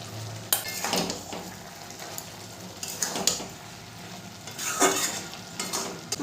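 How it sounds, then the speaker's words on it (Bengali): A spoon stirs a winter vegetable and spinach curry with fried eggplant in a pan, giving repeated scraping strokes over a low sizzle, with no voices. "ভালো করে নেড়ে দেবো। এরপর দিয়ে দেবো ভেজে রাখা বেগুনটা।"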